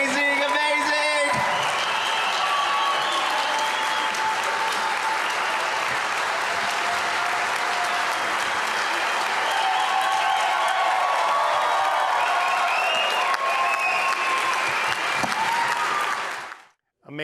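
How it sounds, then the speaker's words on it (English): Sustained audience applause for the Heartbreakers at a women's league charity gala night, steady clapping with a few whoops and faint voices in the crowd, lasting about sixteen seconds before cutting off abruptly. "A big round of applause for the Heartbreakers."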